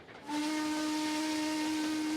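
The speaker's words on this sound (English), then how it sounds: "as we come past with the steam engine again" A steam locomotive in Trainz Simulator lets out a steady, loud whistle over hissing steam, starting abruptly and holding for about two seconds.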